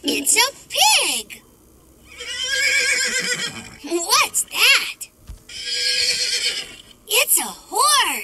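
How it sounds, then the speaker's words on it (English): A toy horse from a Fisher-Price farm learning toy gives two long, quavering whinnies, loud and near, each followed by a chirpy voice speaking briefly. "It's a horse."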